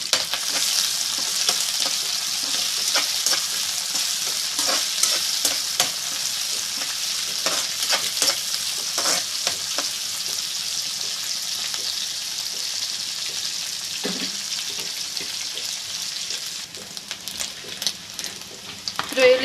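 Prawns frying in hot oil for a prawn curry, giving a steady, loud, bright sizzle throughout with occasional spatters and faint stirring clicks, and no talking.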